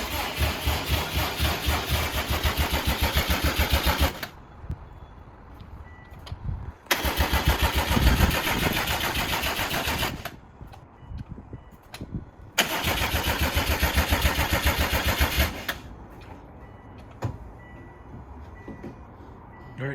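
A 2007 Subaru WRX swapped to an STi engine cranks over with the fuel pump disconnected, in three separate loud cranking bursts of several seconds each, with quiet pauses between them.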